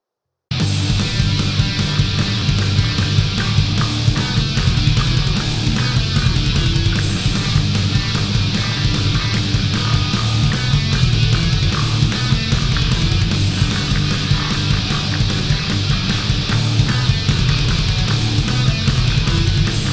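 A bass guitar plays a medium-difficulty part of a song within a full, loud band mix, a continuous dense groove with steady rhythmic pulses from start to finish.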